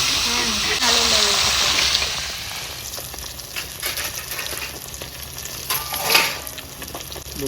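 Bata fish frying in hot oil in a rustic village-style kitchen, a loud hissing sizzle at first that settles into a softer crackle with a few sharp pops and clatters of the pan.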